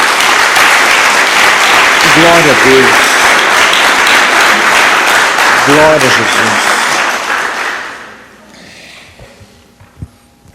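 A church congregation claps in sustained, loud applause, with voices calling out over it twice, before the clapping fades away to near quiet.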